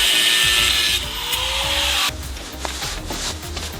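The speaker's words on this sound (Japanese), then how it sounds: "ここをグラインダーで切ったところなんですけど" An angle grinder cuts through a seized stabilizer link on a Suzuki Every DA64V van. The grinding is loud and rasping and shifts pitch as the disc bites, then it stops abruptly partway through, leaving lower scraping.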